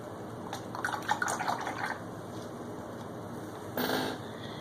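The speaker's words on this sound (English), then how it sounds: "So I'm going to wipe my brush. I'm going to wash my brush." A paintbrush swished and rinsed in water while painting an acrylic lighthouse scene: soft sloshing and dripping for about a second, a quiet pause, then a brief splash, all close and faint.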